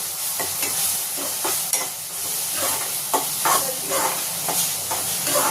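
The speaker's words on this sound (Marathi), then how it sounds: "टोमॅटोचा एकदम मऊसूद होईपर्यंत त्याला तसंच फ्राय करायचं." Chopped tomato frying in a pan for misal, a dense close sizzle with rhythmic stirring swishes and scrapes repeating every second or so.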